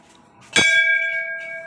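A single temple bell at a Shiva temple is struck once, giving a sharp bright clang that rings on with a sustained, slowly fading metallic tone, close by and clear against faint background murmur.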